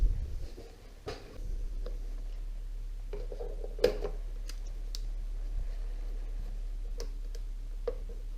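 Zip ties being cut while unboxing an HKS Storm RC car, similar to the WLtoys 12428: a handful of sharp, isolated snips and clicks spread out over several seconds against a low, steady hum.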